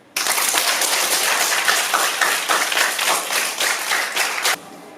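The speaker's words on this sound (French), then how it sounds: "Celui qui est sûr qu'il sera admis en 2026, il applaudit en haut." Students applaud together at a school awards ceremony for top BEPC exam pupils, a dense burst of clapping that starts abruptly, holds steady for about four seconds and then cuts off, with no talk over it.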